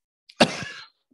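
A single sharp cough, close and loud, with a brief rough burst that fades within half a second, heard alone without any speech.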